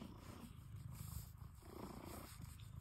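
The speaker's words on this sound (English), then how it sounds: "Do you hear that purring?" A cat purring up close, a steady low rumbling drone that continues without a break, with no talking.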